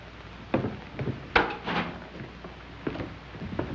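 A wooden door in a house opens with a creak and latch clatter, followed by a few soft knocks and shuffling in a 1938 crime drama scene.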